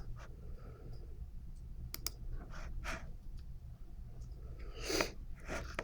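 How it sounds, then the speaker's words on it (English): A computer mouse clicking a few scattered times at close range over quiet room noise, with soft sniffs and small desk sounds in between. "So let's click over here for a second."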